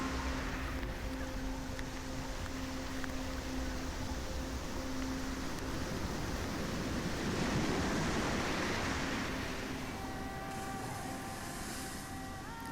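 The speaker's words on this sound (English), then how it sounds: "We have reached the beach, the sounds of children's laughter, marine birds, and footsteps." Beach ambience with ocean waves, a broad steady wash of surf and wind throughout at moderate level, swelling slightly in the middle, with faint tonal hums in the background and no voices.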